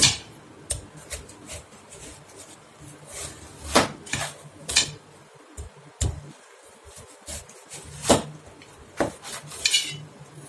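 Vegetables are chopped for kara kuzhambu, with uneven knife clicks and clatters on a board mixed with the clink of utensils and dishes close by.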